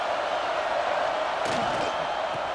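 Steady roar of a stadium crowd at a Georgia vs. Auburn college football game, a dense continuous wash of voices with a brief swell of louder shouts midway, no clear speech standing out.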